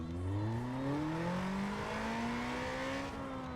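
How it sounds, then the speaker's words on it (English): Honda Civic engine in the racing game Need for Speed Most Wanted, revving up through rising gears with clear whining harmonics, loud and close, a steady climb then a shift and another pull. "Now that sounds more like a Civic."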